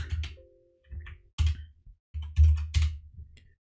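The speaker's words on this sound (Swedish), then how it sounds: "Så vi skriver apt install mariadb-server." Keys clack on a computer keyboard as a terminal command is typed, short bursts of tapping separated by brief silent pauses, close and clear with no talking.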